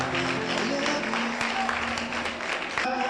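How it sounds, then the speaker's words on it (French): Audience at a charity dinner gala applauding steadily, a dense and fairly close wash of clapping mixed with murmuring voices and a low tonal hum underneath. "On l'applaudit très fort s'il vous plaît."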